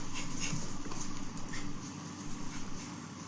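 A dog whimpers and pants softly as ticks are picked off it, close by, with faint rhythmic breathing under steady background noise.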